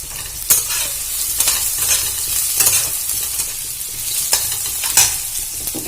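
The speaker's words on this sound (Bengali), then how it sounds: "আমি এর মধ্যে এবার গুঁড়ো মশলাগুলো দিয়ে দেবো। দিয়ে ভালো করে ভেজে নেব।" Ground spices sizzle with fried onion in a pan for a pointed gourd and soya chunk curry, a close, continuous fry broken by regular scraping stirs and occasional sharp utensil knocks.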